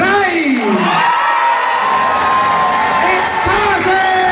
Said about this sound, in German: Applaus Stufe 3.